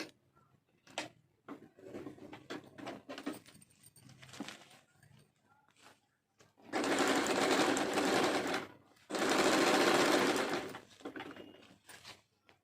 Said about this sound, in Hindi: तो हम यहाँ थोड़ा सा स्टिच लगा रहे हैं।